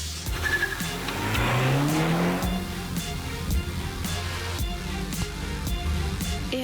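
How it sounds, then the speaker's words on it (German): Mini Cooper S hot hatch on a fast track lap through tight, twisty corners, engine revving up and shifting through gears with tire squeal and skidding, close and loud with no talking. "Der Mini S geht an den Start zur schnellen Runde."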